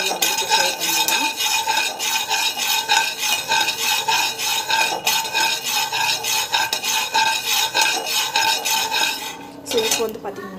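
A utensil stirs and sautés ingredients in a hot pan. Continuous close scraping and sizzling come in a quick repeated rhythm for about ten seconds, loud and alone, with no voices.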